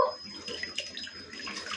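Water runs steadily from a tap for rinsing a cleaning rag during household cleaning, a continuous close splashing flow with faint dripping.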